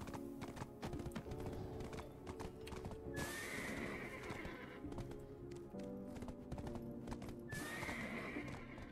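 Galloping horse in the Black Desert Online video game, steady rapid clip-clop hoofbeats throughout with two loud whinnies rising over them, close and clear.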